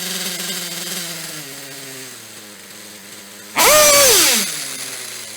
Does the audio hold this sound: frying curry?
no